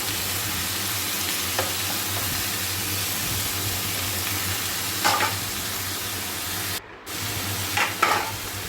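Vegetables fry with tempering spices, turmeric, salt and green chillies in a pan, giving a soft steady sizzle while a spoon stirs them, with a few brief scrapes and a short clatter near the end.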